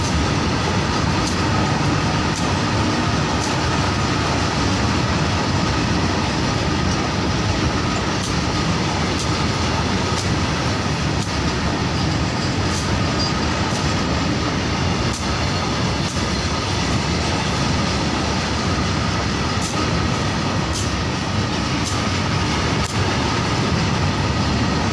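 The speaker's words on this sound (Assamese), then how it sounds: "লগে লগে ট্ৰেইনখনো আহিল।" A train runs along a rail line where track welding is under way, making a loud, continuous roar and wheel rumble for the whole stretch, with faint rhythmic clicks over the rails and no talk.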